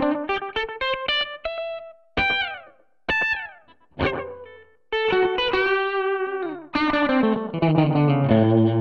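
Electric guitar played through a Positive Grid Spark 40 amp on drive tones: a run of short plucked notes, then loud ringing chords that sustain and swell, close and alone.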